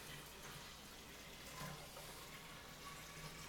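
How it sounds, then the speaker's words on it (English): Kombucha poured into a vessel while being brewed, giving a steady, soft liquid pour with a continuous wash of splashing that holds an even level throughout. "I'm going to go ahead and pour this in here."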